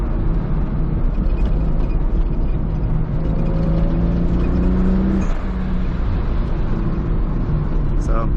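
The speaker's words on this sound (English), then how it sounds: "I'm just letting off the brake and giving it gas." A high-mileage Toyota Supra rolls off the brake and accelerates in second gear on a canyon road, its engine a steady loud drone heard from inside the car, with a rising tone as speed builds.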